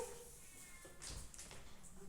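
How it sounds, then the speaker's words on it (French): A domestic cat meows near a door, wanting to be let inside; a couple of short, fairly faint cries stand alone against quiet room background. "j'ai le chat qui veut rentrer"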